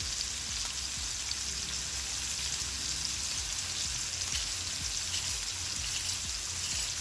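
King salmon fillet skin sizzling in a cast iron pan, a steady close crackling hiss with fine popping that fills the whole stretch, no voices.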